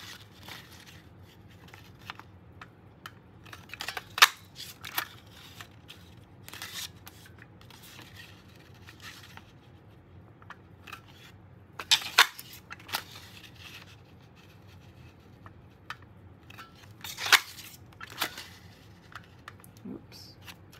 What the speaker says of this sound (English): We'll trim that with the scissors